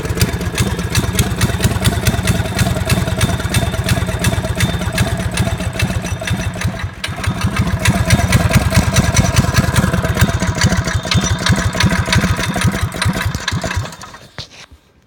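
A Predator 212 engine fitted with a Tillotson carburetor idles loudly up close in a steady, fast chugging rhythm, rising slightly mid-way before cutting out and fading near the end.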